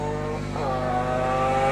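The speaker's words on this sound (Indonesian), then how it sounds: "Kawasaki H1 ataupun panggilan Mark 3 adalah motor dengan 3 silinder 2-stroke 499cc bersama 5-speed manual" A Kawasaki H1 Mark 3 motorcycle with a three-cylinder two-stroke 499cc engine and five-speed manual gearbox runs loud and close, its buzzing drone rising in pitch as it revs up partway through.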